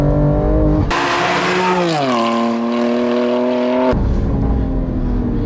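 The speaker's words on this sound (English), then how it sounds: "Well, they roll onto the throttle again." A 700 WHP BMW M2 Competition with Pure Turbos Stage 2+ upgrades and R888R rear tyres accelerates hard, its loud engine note climbing steadily in pitch after a sudden surge, with gear changes and a strong rising howl close to the listener.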